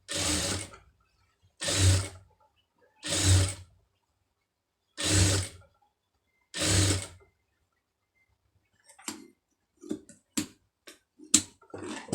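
A sewing machine stitches invisible piping in five short, loud, close bursts separated by pauses, followed by scattered light mechanical clicks and ticks.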